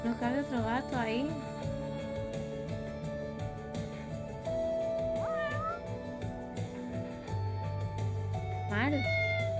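Cats in the video game Judgment give several meows, one early and a rising one near the end, over game music and background hum, with a person talking.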